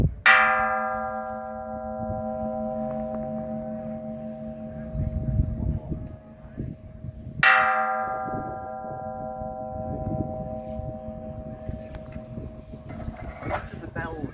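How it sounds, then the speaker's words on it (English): A temple bell at Wat Huay Mongkol is struck twice, about seven seconds apart; each strike opens with a bright clang and leaves a long, shimmering ring that slowly fades, with faint background voices and movement. "There's a bell, the gongs have gone."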